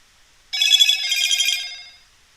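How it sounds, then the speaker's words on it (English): A telephone rings once, loud and close, a bright electronic trill lasting about a second and a half before fading. "That's my phone."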